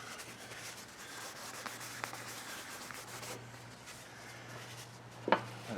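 A cloth soaked in rubbing alcohol wipes over an RV awning, giving soft, continuous rubbing and scrubbing strokes, faint and close, with a brief sharper scrape near the end over a low steady hum.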